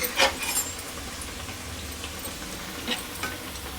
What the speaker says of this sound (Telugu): స్టవ్ వేడి ఎక్కువ లేదు కాబట్టి ఇలాగ ఫ్రై చేసేయచ్చు